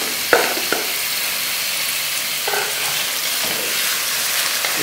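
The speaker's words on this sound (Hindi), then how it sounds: "तो जी हमारा ये प्याज हल्का सा ब्राउन हो गया। इसके अंदर अब हम कीमा डालने लगे हैं।" Beef mince frying in a pan with lightly browned onions gives a loud, steady, continuous sizzle up close, with a few scrapes of a spoon stirring.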